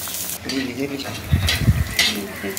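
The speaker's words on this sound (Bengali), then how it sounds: "এইবারে বড়িগুলো ভেজে নিচ্ছি, বড়িগুলো ভেজে নিচ্ছি।" Bori lentil dumplings fry in a pan with a soft, bubbling sizzle, broken by a few clinks and scrapes of stirring nearby.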